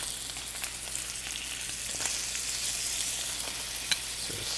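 Blackened-spiced shrimp sizzle in a greased pan with a soft, continuous frying hiss, a few light clicks and taps of placement scattered through.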